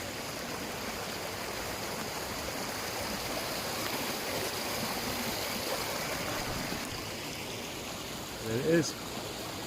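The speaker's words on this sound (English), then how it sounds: "Oh, a lot of water come out then." Water gushes out of an old hand-chiselled mine adit from around the mid-18th century in West Wales, a steady rushing stream close by that swells near the end while someone briefly speaks.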